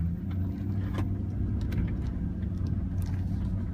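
A pickup truck in four-wheel drive rolls along a wet dirt road, its engine a low, steady rumble close by, with light scrapes and splashes from the tires over the ground.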